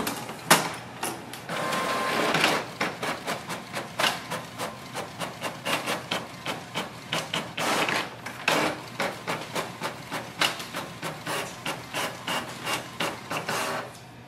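A Canon MAXIFY GX4020 inkjet printer prints a page, its print head shuttling back and forth in a fast, regular series of loud mechanical clacks and whirs, close and alone with no talking.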